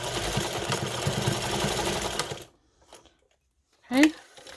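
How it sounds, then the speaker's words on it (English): Sewing machine stitching fabric pouch panels at a quarter-inch seam, a rapid steady mechanical whir for about two and a half seconds, then silence and a brief faint clatter. "Sewing it at the 1/4 inch mark."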